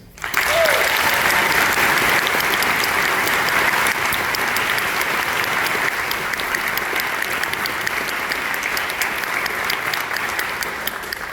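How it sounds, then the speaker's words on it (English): Audience at a high school band spring concert gives sustained applause for the Ocean Springs High School Band parents, a loud, even roar of many clapping hands starting abruptly and holding steady throughout. "Would you now help me give a round of applause to the outstanding contributions of the Ocean Springs High School Band parents"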